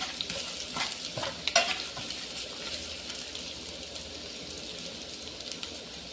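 Finely chopped ginger stirred and fried in a hot pan for a pumpkin sabzi, giving a steady close sizzle with scraping stir strokes early on that settle into continuous frying, no voices.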